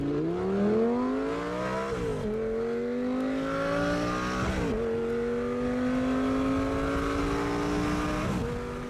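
A Lamborghini and a Ferrari sports car pull away, their engines revving hard and climbing in pitch through several gear changes. The roar is loud, close and continuous, with no voices.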